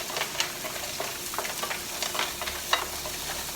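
Seafood sautéing in a pan for kare-kare, a steady hissing sizzle with occasional stirring scrapes and pops, close and moderately loud.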